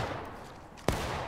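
A single sharp musket blast from a volley in the Civil War game War of Rights, loud and close, ringing out after a stretch of quiet ambient rumble.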